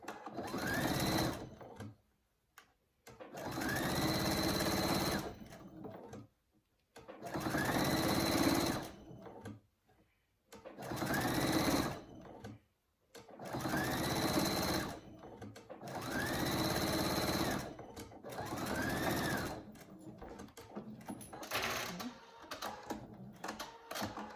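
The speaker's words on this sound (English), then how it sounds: "So you're going to top stitch the raw edge down, and you're going to do exactly like you did before, holding it back and then walking it as you're sewing it." A sewing machine top-stitches the raw edge of a fabric microbat pouch, running in about six rapid whirring bursts separated by short pauses, close and steady, without any talking.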